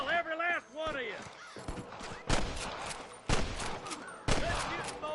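Rapid gunfire crackles in Red Dead Redemption, with several loud bursts of shots breaking through shouted voices and battle noise at close range.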